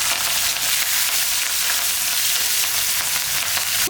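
Finely chopped green chilies fry hard in hot oil with a dense, loud, continuous sizzle close by and faint stirring underneath, with no talking.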